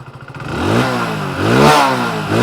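A Hero Splendor Plus motorcycle engine revs up twice from a putter, its pitch climbing and falling in quick sweeps, loud and close.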